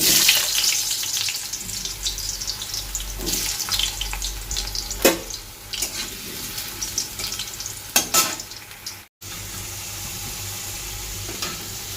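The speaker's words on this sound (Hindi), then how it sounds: "तेल हमारा गरम हो चुका है। अब इसमें मैं आलू डाल दूँगी।" Potatoes frying in hot oil with a continuous crackling sizzle, punctuated by sharp clatters of a utensil and stirring, with a brief drop in sound near the end.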